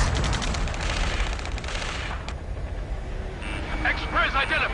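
Rapid automatic gunfire and bursts of shooting from a PS4 military shooter firefight, dense and continuous over the first half, then thinner with shouted voices and game sounds layered over the battle.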